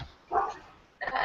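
A dog barks twice, close and fairly loud, each bark short with a clipped yelping edge and a gap of about half a second between them, no talk over it.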